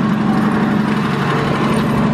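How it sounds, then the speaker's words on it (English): A 1968 Plymouth Valiant 100 idles steadily close by. It has a smoking engine, and its even low hum and rumble continue without a break and with no voices. "let me get out while it's idling and kind of show you the smoke situation"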